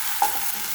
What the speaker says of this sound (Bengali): মশলাটাকে আমি একটু ভালোভাবে ভেজে নিচ্ছি, যেহেতু যেন আদা রসুনের গন্ধটা না থাকে।